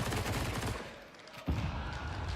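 Bursts of gunfire in Counter-Strike during a Major esports match, dense and loud, with a brief lull before the shooting resumes.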